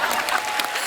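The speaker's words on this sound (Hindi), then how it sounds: "आपने ताली क्यों बजाई?" A studio audience at a comedy show bursts into applause after a tongue-twister attempt, a short, dense burst of clapping close and fairly loud for under a second.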